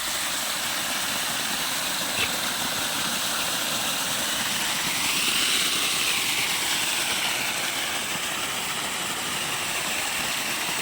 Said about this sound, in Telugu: రైట్, మోటార్ ఆన్ చేసాం. వాటర్ అయితే వస్తున్నాయి.